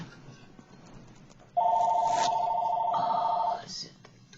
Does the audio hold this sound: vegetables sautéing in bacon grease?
no